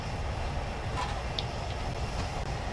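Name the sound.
Flying Scotsman steam train running in video game Train Sim 2020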